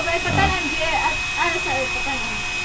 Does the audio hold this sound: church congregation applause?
no